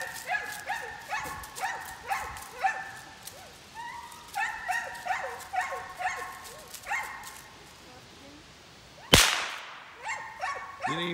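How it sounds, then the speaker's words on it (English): A single sharp, loud crack of a suppressed rifle shot rings out during gun-shyness training, after a long stretch of a dog's repeated yips and barks; a voice is heard briefly. "I have a suppressed rifle too, so I don't shoot over my dogs without a suppressor"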